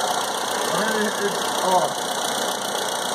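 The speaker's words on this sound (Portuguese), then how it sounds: "quando eu abro esse resistor, chega, eu percebo o motor mudando aqui de comportamento" Gasoline-fueled engine running at a steady idle, a continuous close mechanical hum with a faint high whine, while someone speaks in Portuguese over it.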